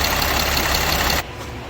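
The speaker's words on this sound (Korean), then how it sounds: "자, 엔진이 조용해졌죠." A car engine idles with a loud, steady rumble, then cuts off abruptly, leaving only a quieter background hum.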